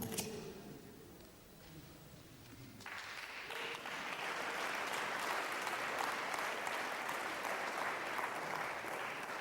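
A ballroom crowd at the 2008 Blackpool dance congress breaks into dense applause and cheering for a paso doble. It begins faint, then swells abruptly into sustained loud clapping that carries on to the end.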